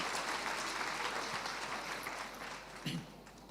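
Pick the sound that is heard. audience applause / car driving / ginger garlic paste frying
audience applause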